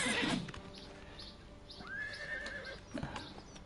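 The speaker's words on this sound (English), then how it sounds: "I'm trying not to hit the horse." A horse in Oblivion Remastered on PS5 gives a clear rising whinny, preceded and followed by brief hoof clip-clops and game ambience, moderately close with no talk over it.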